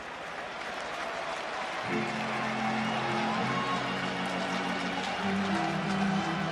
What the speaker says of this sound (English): Crowd bubbling,